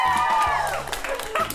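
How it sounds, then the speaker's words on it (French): A crowd applauds and cheers for the participants of a food-eating contest. The clapping and crowd noise are dense and steady, while a voice talks over it. "Une bonne main d'applaudissements pour nos participants."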